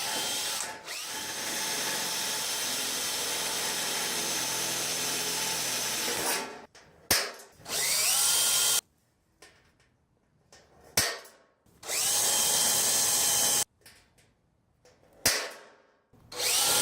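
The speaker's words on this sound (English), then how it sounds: "These are step bits, and the cool thing about these is that you don't have to change drill bits, and they're good for sheet metal" A power drill runs a step drill bit through sheet metal while converting a fluorescent shop light fixture to LED, in several loud, sustained bursts of whining cutting separated by short pauses and clicks.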